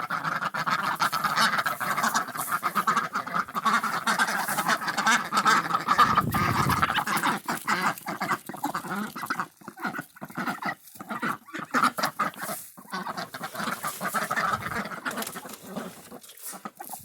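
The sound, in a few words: ducks quacking while eating mealworms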